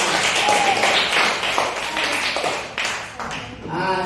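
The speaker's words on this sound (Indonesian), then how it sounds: "Tepuk tangan dulu semua" A classroom of students claps hands together at the start of a lesson, a dense, steady burst of clapping that fills the room, with voices rising near the end.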